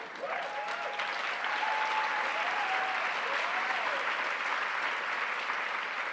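Sustained audience applause at a Variety women's event, a dense steady wash of clapping from a large room holding even loudness throughout, with faint voices or whoops drifting over it.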